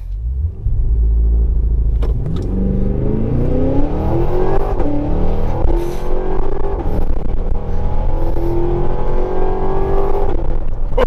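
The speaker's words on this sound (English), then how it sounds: "I'm gonna test the acceleration with the Escalade V" A 2023 Cadillac Escalade V with a 682 HP engine and all-wheel drive accelerating hard, a loud, deep roar climbing steadily through the gears from inside, with brief dips at each shift.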